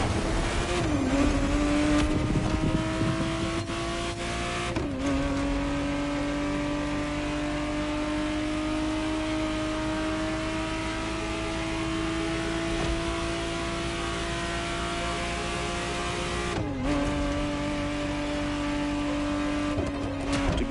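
Ferrari 512TR, the 1991 re-engineered Testarossa, driven in The Crew Motorfest: a loud, steady close engine drone with rising revs, sharp drops at gear shifts and brief tyre noise, no talk.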